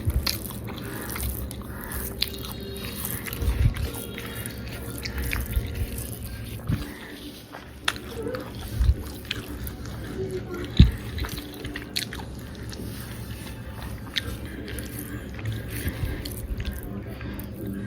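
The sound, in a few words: chewing pickled garlic while eating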